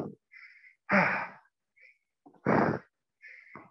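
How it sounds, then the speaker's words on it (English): Heavy breathing after a hard squash workout, with deep forceful breaths alternating with lighter rasping inhales in an uneven rhythm, close and alone. "Sorry about my heavy breathing."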